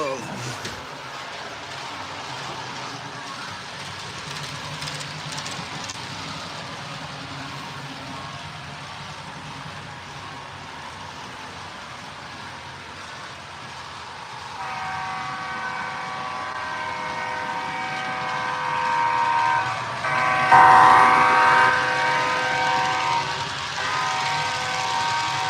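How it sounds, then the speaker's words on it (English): An HO scale model train locomotive makes a passing run on a layout, its motor hum rising as it nears and a tonal horn sounding in the second half, with a voice talking in the background. "We'll do a flyby right here with the locomotive"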